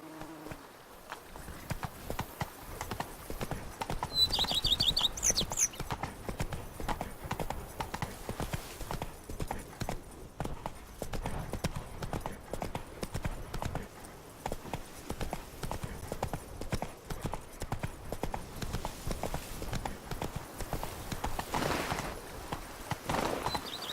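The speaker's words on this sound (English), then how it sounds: "Whoa there, Roach." Horse hooves clip-clop steadily in The Witcher 3: Blood and Wine, a continuous rhythmic trotting patter that runs throughout with a brief high game chime early on, no voices.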